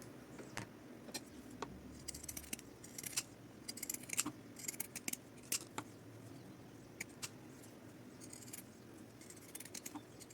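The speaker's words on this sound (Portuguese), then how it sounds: "Se você não tiver tesoura de picote, pode utilizar a tesoura comum" Pinking shears snip through fabric around the curved edge of a small multipurpose bag piece, giving a quiet run of sharp crisp cuts at an uneven pace over a soft background, with no talking.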